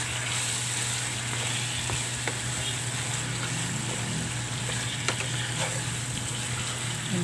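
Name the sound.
chicken browning and sizzling in oil in a pan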